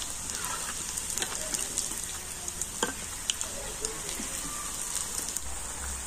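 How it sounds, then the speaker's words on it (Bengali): Pithe frying in hot oil gives a steady, crackling sizzle like light rain, with scattered small pops over a constant hiss, fairly quiet and without voices. "তবে পিঠেগুলোকে কিন্তু এইভাবে লাল লাল করে ভেজে নিতে হবে।"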